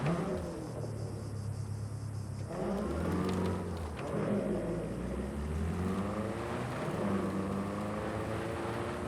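A car in Cyberpunk 2077 driving, with a steady engine drone that rises and shifts in pitch as it moves along, close and continuous.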